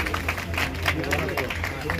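An audience applauds at an Urdu-language award ceremony, giving a burst of moderate clapping with a murmuring crowd and a speaking voice audible over it.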